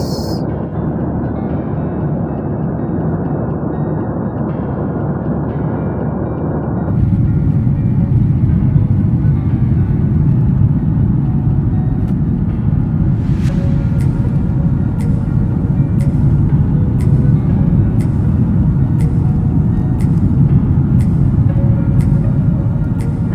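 Steady, loud cabin rumble inside a passenger jet descending to land on a domestic Jakarta to Surabaya flight, with a sharp shift in engine tone partway through and faint regular ticks later on.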